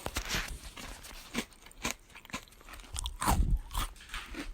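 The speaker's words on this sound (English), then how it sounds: "We're crunching the crackers." Crackers with cheese spread crunched close up, several loud crisp bites and chewing crackles in an irregular rhythm, with no talking.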